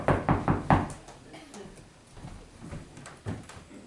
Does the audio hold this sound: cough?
no